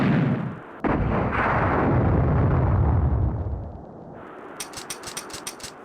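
In Resident Evil Outbreak File 2, the ultimate weapon fires from a kneeling aim with a single huge booming blast that rolls on for several seconds and then fades, followed by crackling, flickering fire.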